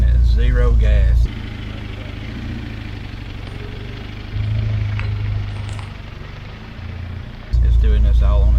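A Jeep TJ idles its way up a steep grade in low gear with no throttle, a steady low engine drone that rises and falls slightly, while someone talks over it at the start and end.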